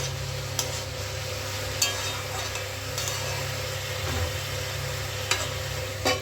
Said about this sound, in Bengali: তো ঢাকনাটা খুলে আমি আবার একটু নেড়ে চেড়ে দিচ্ছি।